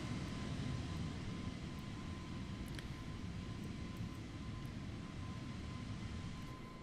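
Jet engines of a JetBlue Airbus A320neo in Microsoft Flight Simulator roar as a steady, dense low rumble, heard from outside the cabin, with a faint constant whine and no talking.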